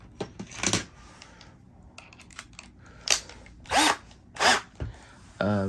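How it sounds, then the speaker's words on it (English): Short bursts of a home-style cordless drill whirring while drilling a pilot hole, several brief pulses with pauses between, close by, ending with a higher motor whine. "Yes, I'm using a cordless drill."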